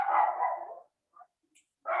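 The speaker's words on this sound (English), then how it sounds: "Somebody mute that dog." A dog barks loudly and close by, one long bark and then a short, quieter one, before a further bark begins at the end, with near silence between.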